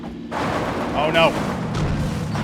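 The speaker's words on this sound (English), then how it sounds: "obviously I just took a shot from a Kar 98" A single sharp Kar 98 rifle shot in the PUBG battle royale game cracks out early and loud, followed by a busy stretch of in-game noise and a voice talking.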